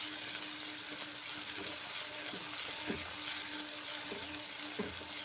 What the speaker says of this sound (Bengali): এখন কড়াইয়ে কষে নিচ্ছি, মশলার সঙ্গে একসঙ্গে কষে নিচ্ছি।